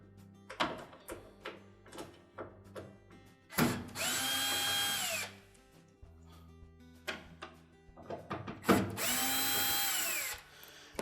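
Cordless drill removing the two screws holding the main top to the cabinet of a Whirlpool washer, two separate high whirring runs of about two seconds each, close, with scattered clicks and handling knocks between them.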